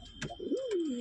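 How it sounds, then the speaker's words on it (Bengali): Lokka pigeons in a loft give a close, clear coo that rises and then slides smoothly downward, with a few softer calls before it. "দেখে নাও পায়রাগুলো আর একবার।"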